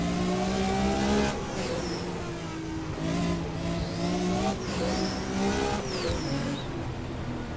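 Racing car engine in Assetto Corsa, a heavily turbocharged Porsche-type machine, revving loud and sustained with harmonic engine tones, pitch dropping and climbing through downshifts, with brief tire squeals between gear changes.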